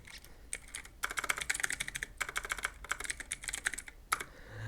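Quick clattering keystrokes on a computer keyboard while typing a Windows settings search, coming in close, rapid bursts separated by brief pauses.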